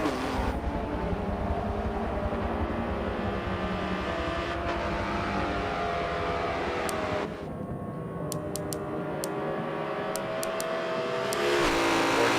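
A McLaren race car at Daytona accelerates hard out of a corner, its engine roaring loudly and steadily with shifting pitch, a continuous close drone over the whole stretch.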